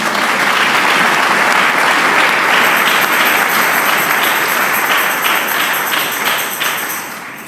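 A church congregation bursts into loud, sustained applause, many hands clapping densely and evenly, holding strong before tapering off slightly at the end.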